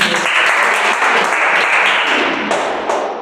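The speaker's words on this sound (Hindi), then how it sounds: "ताली बजा दीजिए।" Students in an online-class Children's Day quiz clap for the first-place winner, a loud, dense burst of applause that fills the whole stretch and tapers off slightly at the close.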